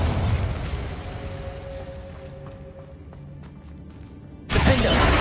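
Spell explosion from the Hogwarts Legacy game: a sustained loud broadband roar that fades over several seconds, then a fresh sharp blast bursts in near the end.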